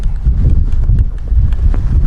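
A horse moves around an outdoor riding arena, its hoofbeats thudding in a steady, close, low rhythm over wind and ambient rumble, with no talking.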